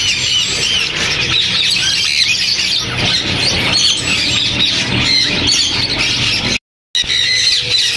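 Loud, continuous squawking and shrieking from caged parrots fills a busy Sunday bird market in Bahawalpur, harsh calls overlapping without pause and cut by one brief dropout near the end.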